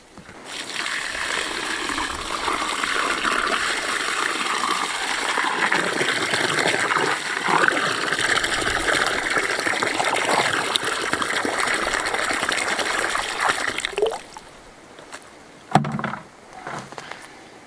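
Water gushes and pours steadily onto dry orchard ground in a semi-desert area, a broad continuous splashing rush for about fourteen seconds before cutting off, followed by a few soft trickles and a brief thump.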